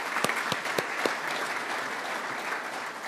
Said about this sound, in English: Now, let's welcome them with a good applause.